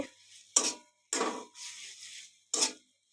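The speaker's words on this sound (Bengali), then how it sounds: "নুডলসটা দিয়ে এখন আমি একটু সময় জাস্ট নাড়াচাড়া করব।" A spatula stirs noodles in a pan with freshly fried ingredients. Four separate scraping strokes of metal on the pan come up close, each about a quarter to half a second long, with quiet gaps between them.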